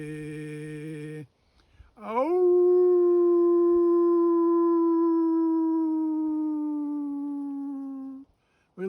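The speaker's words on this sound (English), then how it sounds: "You will hear me when the lone wolf howls." A lone wolf gives a long, sustained howl that rises at the start, then holds and slowly falls, loud and clear after a brief tonal sound at the start.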